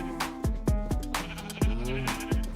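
Several sheep in a survival video game bleat in quick, overlapping succession, close and fairly loud, with about seven or eight distinct wavering calls packed into a couple of seconds.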